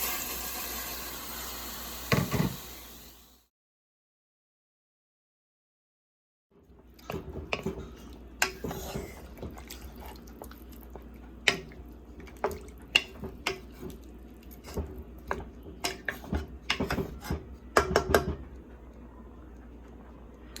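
Chopped vegetables clatter and plop into a pot of brown stew chicken after a short silence, followed by scattered splashes and drips of water, close and fairly quiet.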